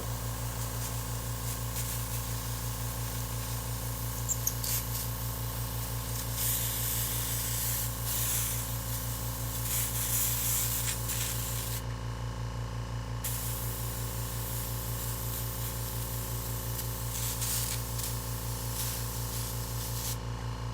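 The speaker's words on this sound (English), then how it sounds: "sometimes the angle of your airbrush sprays paint in a way you don't want it to" An airbrush sprays paint onto a skateboard, giving a continuous steady hiss with a constant low hum underneath. The sound runs without a break throughout.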